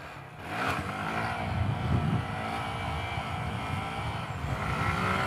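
A Honda Grom motorcycle accelerates hard in first gear while building speed for a wheelie in a lot, its small engine rising in a continuous, fairly loud buzzing rev with no talk.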